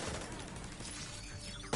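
Gunfire in the Division 2 video game, a dense, continuous mid-level barrage of shots with a sharper burst at the very end.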